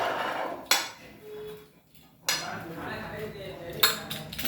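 Knife or cutter striking a plate while a layered Raja-Rani paratha is sliced into pizza-style wedges: three sharp clinks spaced apart, with quieter scraping between them, close and clear.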